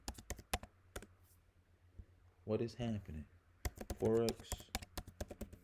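Fast typing on a computer keyboard, loud, close, sharp clicks in irregular bursts at the start and end, with a person speaking briefly in the middle.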